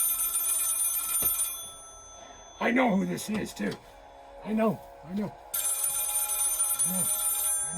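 An old telephone bell from an estate sale rings loudly in two long metallic bursts, separated by someone talking in the pause between them.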